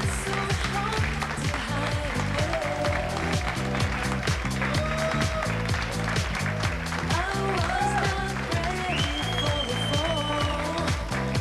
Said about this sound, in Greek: Ένα θερμό χειροκρότημα για να την δούμε,